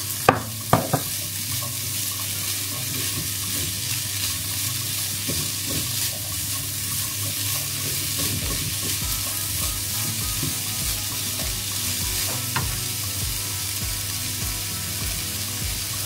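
Small diced onion sizzling steadily in a pan for a vegan chickpea coconut curry, with occasional scrapes and clacks of stirring, especially near the start; close and continuous, no talking.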